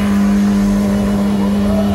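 A Mercedes G-Class off-road SUV strains up a steep hill with its wheels digging in, the engine revving loud and steady at close range, no talk.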